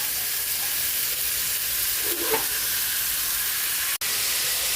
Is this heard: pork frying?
yes